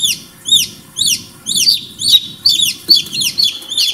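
Newly hatched chicks in a box after hatching in an incubator peep and cluck close by, sharp high calls repeating about twice a second in a steady rhythm, with no talking.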